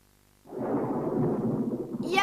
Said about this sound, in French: c'est le tonnerre qui gronde dehors